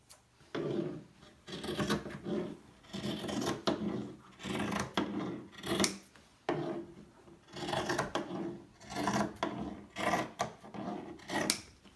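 Scissors slicing through folded t-shirt fabric into strips, a close, quiet run of rough snipping and rustling cuts in uneven bursts, with brief pauses between passes and no voice.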